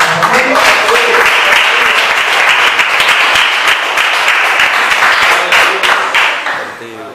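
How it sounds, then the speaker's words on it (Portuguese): A church congregation claps hands together during a worship service in Belo Horizonte, a loud, dense and sustained burst of applause that fills the room and tapers off slightly at the end. "glorifica, exalta o nome do Senhor com as suas palmas"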